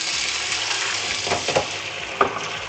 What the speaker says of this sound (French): Je les fais sauter un petit peu. Un feu vif.